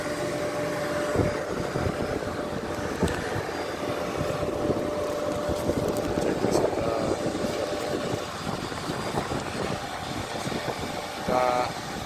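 An Airbus ACH135 helicopter taxiing out before departure produces a steady, loud engine and rotor drone throughout, with faint voices and brief mechanical clicks over it.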